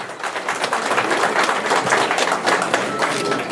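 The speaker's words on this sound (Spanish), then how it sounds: "se escucha el fuerte y caluroso voto de aplauso" Wedding guests applauding the newlyweds Nelson and Nelva, a lively, fairly loud burst of many hands clapping that swells slightly and stays strong throughout.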